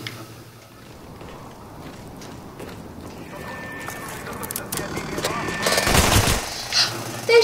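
Gunfire in Call of Duty Black Ops multiplayer, rapid bursts of shots that swell near the end over a noisy game backdrop, with players talking.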